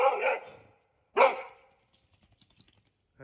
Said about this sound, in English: That's my dog, Cody.